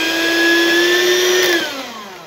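Electrolux SFM 689 150 W electric hand mixer from the 1990s whirring steadily at close range with a strong motor whine, then the pitch sags as it winds down near the end.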